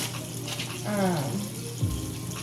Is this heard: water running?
yes